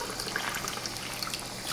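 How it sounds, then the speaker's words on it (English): Water poured into a pot of Thai soup, a soft steady splashing trickle heard at low level and without talk. "I'm gonna start adding more water."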